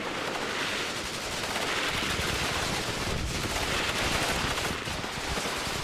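Dense, continuous machine gun fire in the WARNO war strategy game, MG3 guns mounted on M113 carriers giving fire support, a relentless rattling roar with no pauses and distant battle rumble beneath.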